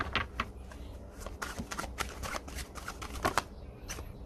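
A deck of Ren and Stimpy themed cards is shuffled by hand, a soft continuous riffling and flicking of card edges with quiet taps, close and fairly faint.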